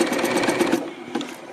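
Sewing machine running a zigzag stitch to attach fold-over elastic onto fabric, a steady rapid needle chatter for most of the moment, then stopping and briefly restarting with a short burst.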